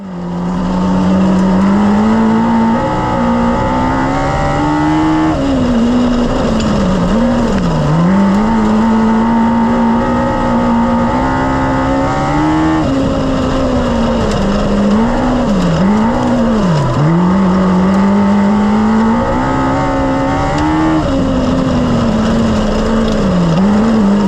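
Race cars roar continuously around Placerville Speedway during a B main event, engines loud and close, with the pitch rising and falling as they accelerate and lift through the turns.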